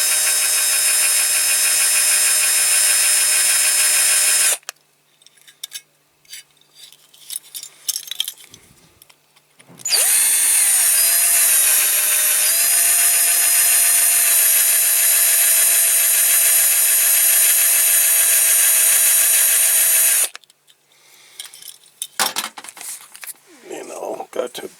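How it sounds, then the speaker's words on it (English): Small power drill drilling out the base rivets of a Dinky Toys MG Midget die-cast model: two long, loud, steady high whines, each about five to ten seconds, the pitch dipping under load, separated by clinks and handling noise of metal parts. "start off with a small drill bit."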